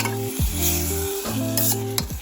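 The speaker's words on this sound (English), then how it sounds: "Now I'm gonna turn my heat onto medium and stir it." Blueberries, lemon juice, lemon zest and sugar being stirred in a pot on a stovetop over medium heat, a spoon scraping in a few strokes over a steady sizzle, close and fairly loud with no talking.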